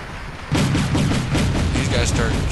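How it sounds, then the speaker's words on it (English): Artillery fire lands in the Wargame: European Escalation battle, bursting in suddenly after a quiet half-second as a dense, rumbling barrage of booms and blasts that continues to the end. "The artillery is landing in the wrong spot, which is good."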